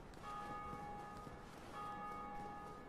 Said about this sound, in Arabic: الحين رنينا جرس باقينا بس جرس ثاني